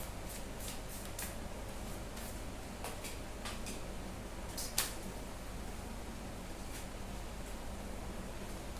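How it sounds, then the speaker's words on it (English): Tarot cards being shuffled by hand, a soft quiet riffle of repeated papery flicks and rustles at an uneven rhythm, with one brief sharper snap midway and no talking. "I have to reshuffle."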